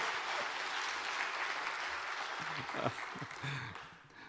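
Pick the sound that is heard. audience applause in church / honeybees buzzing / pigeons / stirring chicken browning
audience applause in church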